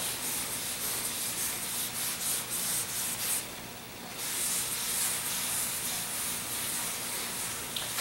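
Sanding a paste-wax layer off the surface of a cast UHPC glass-fibre-reinforced concrete coffee table: loud, continuous close abrasive hiss and rubbing, with a brief dip around the middle before the steady grinding resumes.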